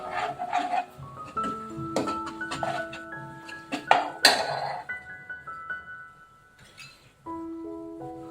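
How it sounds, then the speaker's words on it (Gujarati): A spoon scrapes and clinks around a pan as ground coriander and other spices are stirred into a mung bean curry, with soft rubbing strokes and occasional metallic taps over steady background music. "હવે એને સારી રીતે આપણે મિક્સ કરી દઈશું"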